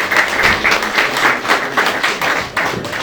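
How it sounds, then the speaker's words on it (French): Audience applause at an evening event celebrating Haitian cacao, a dense patter of many hands clapping steadily and fairly loudly for about three seconds, with no speech over it. "Merci sous vos applaudissements"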